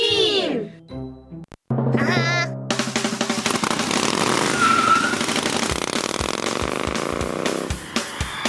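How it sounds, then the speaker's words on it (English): A cartoon motorcycle engine revs loudly and steadily in a children's counting game, following brief playful sound effects, with a faint sputtering tail at the end. "Rocky jumped over 19 school buses on his motorcycle"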